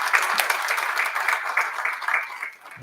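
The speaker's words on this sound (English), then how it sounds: "Let's give him a round of applause for his service." An audience at a Southern University Board of Supervisors meeting claps for an award recipient, a steady burst of dense applause from a crowd indoors that tapers off near the end.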